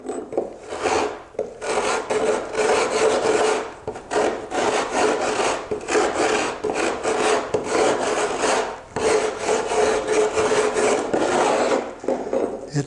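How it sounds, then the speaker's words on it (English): A super coarse, long-toothed rasp is scraped crossways over weathered wood in steady, loud back-and-forth strokes with brief pauses between passes, close up and with no talking. "I used a super coarse rasp"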